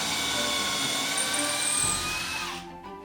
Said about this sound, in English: I drilled most of the way through with the mobile drill press